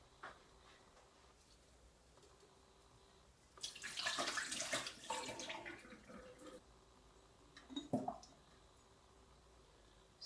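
Water is dumped out of a jar holding houseplant cuttings, a splashing pour of a couple of seconds followed by a brief second splash, close and otherwise quiet.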